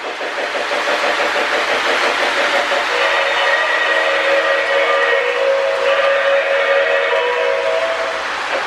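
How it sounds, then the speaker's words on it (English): A Lionel Rio Grande model train sound tender running with a rebuilt metal shell, giving a loud, sustained steam whistle over a steady rhythmic chuffing and rolling rumble, close and continuous. "I think this is the nicest sounding train sounds tender I have."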